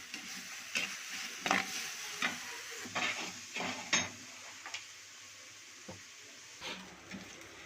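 Ginger garlic paste is stirred in a pan for chicken gravy, with a quietly sizzling base and irregular scraping strokes of a spoon at a moderate, unhurried pace.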